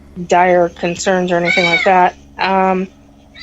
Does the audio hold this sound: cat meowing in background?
yes